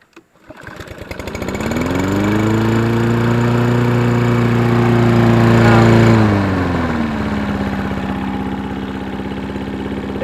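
A Toro Recycler 22-inch lawn mower engine, just retimed at the camshaft, pulls to a start and roars up loud and close, its pitch rising then dropping to a steadier, lower running drone with no throttle control.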